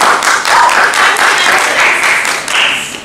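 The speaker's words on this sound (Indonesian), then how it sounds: "Tepuk tangan guys." A small audience at an Indonesian literature students' gathering claps hands, a close, bright burst of clapping lasting about three seconds with voices and cheers mixed in, easing off toward the end.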